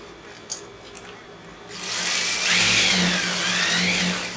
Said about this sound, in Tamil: நம்ம தைச்சது மேலேயே வந்து இன்னொரு தையல் தைச்சிக்கோங்க.